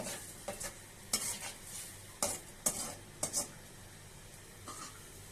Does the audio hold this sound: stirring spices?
yes